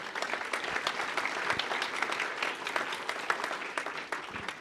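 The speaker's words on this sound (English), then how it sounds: "So a round of applause for Ashley, please." Sustained applause from an audience at an annual event, dense and steady clapping throughout with no break.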